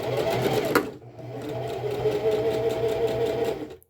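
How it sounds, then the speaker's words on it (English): Sewing machine stitching a 5/8-inch seam on Simplicity S9019 pajama pants, with a quick back stitch: a close, steady motor whir with fast needle rhythm running nearly four seconds, briefly dipping before resuming, then stopping abruptly. "Let's sew from here, 5/8 of an inch away. I will back stitch."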